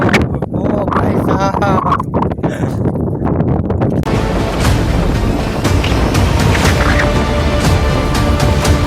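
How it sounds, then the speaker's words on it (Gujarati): Strong gusty wind roars against the microphone on Girnar mountain, a rough, loud buffeting that runs the whole time, with someone talking over it. "અમારે નેક્સ્ટ લેવલ પવન."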